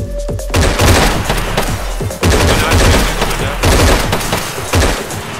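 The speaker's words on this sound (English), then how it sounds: "Hear the shots?" Rapid bursts of gunfire from Arma 3 DayZ ring out close and loud, repeated volleys with short gaps between them.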